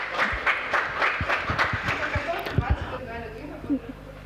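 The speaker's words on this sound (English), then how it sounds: "This is a round of applause for you." An audience at a health hackathon final claps for a team, giving a brief round of uneven, sharp hand claps. The claps thin out toward the end, with a few louder strikes and some indoor room noise.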